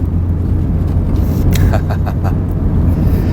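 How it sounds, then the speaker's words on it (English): A 2019 Mazda MX-5 Miata RF accelerates, its engine a loud, steady low rumble heard from inside the car, with a few brief higher-pitched noises on top. "I love to accelerate in this car."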